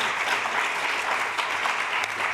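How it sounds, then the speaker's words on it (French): Audience applause at a conference panel on reconciling humanity with the living world, for the world's first plastic-free restaurant: steady, dense clapping from a crowd, moderately loud and sustained throughout with no talk over it. "on peut l'applaudir"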